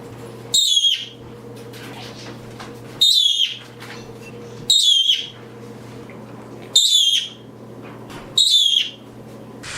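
Senegal parrot calling in five loud, separate bursts of squeaky, whistled chirps about every two seconds, each burst short, set against a steady low household hum.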